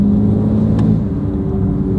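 BMW M4 G82 engine running with a steady, loud low rumble that holds throughout without a sharp rev spike, close by.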